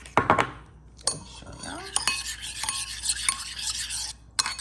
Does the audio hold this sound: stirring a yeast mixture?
yes